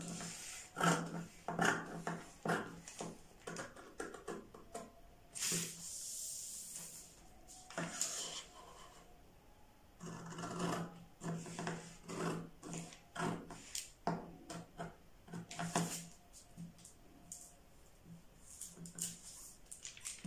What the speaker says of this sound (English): Let's cut it out and see the outcome of the neckline.